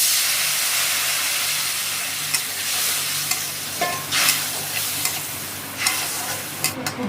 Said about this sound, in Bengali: ভালো করে নাড়াচাড়া দিয়ে দেব একটু অল্প করে জল।